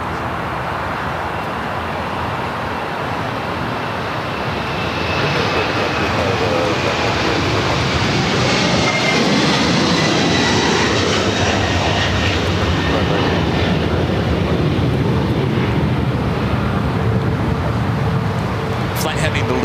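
Airliner rolling down runway 25 left at LAX for takeoff, its jet engines building from a steady rumble to a loud, sustained roar with a sweeping whine, near and powerful, with a voice talking over it.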